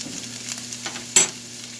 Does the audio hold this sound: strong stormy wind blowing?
no